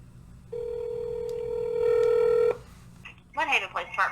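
A telephone call starts with a steady dial tone, then a ringing signal before it cuts off, and a person starts talking at the end.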